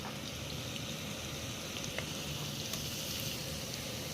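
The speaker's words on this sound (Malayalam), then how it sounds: "എണ്ണ ചൂടായിട്ടുണ്ട്. നമുക്കിതിനകത്ത് ഇച്ചിരി ഒരു 4-5 ഉലുവ ചേർക്കാം." Fenugreek seeds sizzle in hot cooking oil, a steady, close hiss of frying with a few faint pops throughout.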